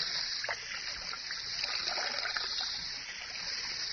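A garden fountain splashes in a steady, continuous patter of falling water in a radio drama sound effect, fairly close and even throughout, with no one speaking.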